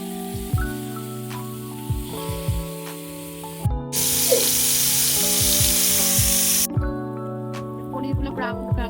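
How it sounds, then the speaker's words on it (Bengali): Marinated paneer frying in light oil in a pan, a loud hissing sizzle that bursts in for about three seconds in the middle, with a musical backing of steady tones before and after. "তারপর আমি প্যানের মধ্যে হালকা তেল দিয়ে পনিরটাকে ফ্রাই করে নেব।"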